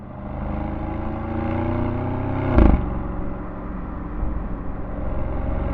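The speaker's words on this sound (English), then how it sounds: "this car and this engine is just still one of the best sounding engines that you'll ever come across in terms of a V8 in the world" A 2025 Audi SQ7 V8 rumbles with a deep, loud, continuous burbling drone that swells briefly with a sharp blip of revs midway, then settles back into a steady throaty hum.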